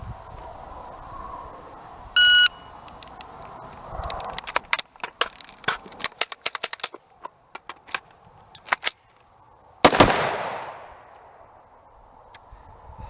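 Shot timer beep followed by a rapid string of rifle shots from an AXTS MI-T556 on an outdoor range, sharp cracks in irregular bursts with a pause, then a louder close blast and a fading echo.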